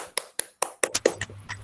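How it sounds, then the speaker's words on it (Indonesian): Classroom of fourth-grade students clapping together after a lesson, a short run of sharp close claps at a fairly even pace that turns looser and overlapping toward the end. "Tepuk tangan buat kita semua"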